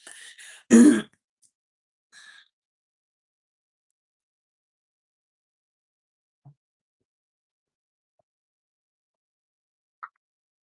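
A single person clears their throat once, loud and close, with a shorter throaty hack just before it. A softer cough follows a moment later, then long quiet broken by a few faint small noises. No one speaks.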